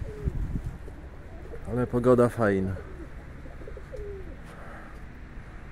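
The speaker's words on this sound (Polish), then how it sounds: "Grukają." Pigeons coo in a pigeon loft on a frosty, misty morning, a clear burst of several throaty, rolling coos rising in the middle, with someone talking briefly before and after.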